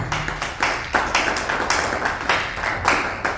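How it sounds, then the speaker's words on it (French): A church congregation at a Sunday service claps together in a quick, rhythmic beat, with sharp, close hand claps repeating steadily. "Acclamons le Seigneur."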